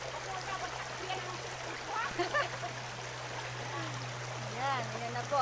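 River water flows steadily with a soft continuous rush along the Hibanga river, a steady low hum underneath, and a person speaking briefly at times.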